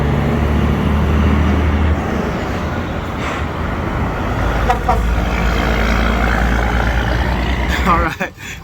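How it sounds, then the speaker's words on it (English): A classic Freightliner truck at a Walmart distribution center in Robert, Louisiana runs with a deep, steady diesel rumble close by, ending in a sharper mechanical clunk. A person talks over the engine noise. "I want you guys to see this this Freightliner right here. It's classic. Listen to it."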